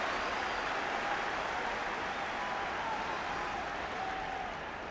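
A football stadium crowd buzzing after a corner at a Tottenham Hotspur versus Bayern Munich match; a dense, steady roar of many voices that holds evenly throughout with no clear individual talking.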